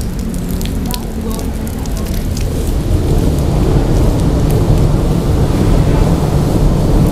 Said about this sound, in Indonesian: Ya, wah hujan ya, hujan deras,